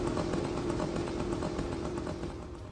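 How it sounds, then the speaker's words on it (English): The two-stroke engine of a Shahed drone buzzes in a steady, raspy, moped-like drone that holds for a moment and then slowly fades. "you will be hearing a two-stroke moped buzzing in the air"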